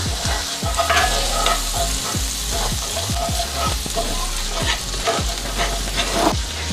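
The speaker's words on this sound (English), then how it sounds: "I'm gonna add 2 garlic cloves chopped. We're just gonna saute this until it's nice and translucent." Chopped onion and garlic sauté in a pan for a creamy shrimp pasta, a steady close sizzle under repeated scraping stirs of a spoon against the pan, with no talking.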